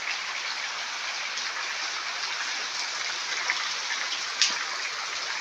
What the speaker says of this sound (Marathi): गावाला भरपूर पाऊस पडतोय.